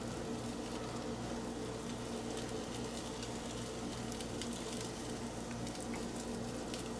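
Butter sizzles and crackles steadily in a hot pan under a frying Monte Cristo sandwich, a constant close hiss with fine popping and no voices.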